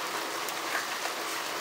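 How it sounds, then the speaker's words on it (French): Steady rain falls around a Citroën C15 van on a long road trip, a dense, even hiss close by with no voices. "il pleut de plus en plus."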